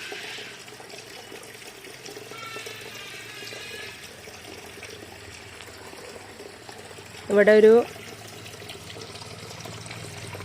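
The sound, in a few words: water flowing down into a pond in a Christmas crib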